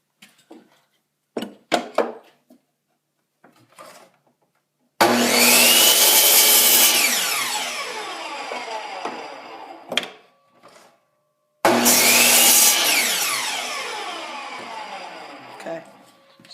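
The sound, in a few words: miter saw trimming wood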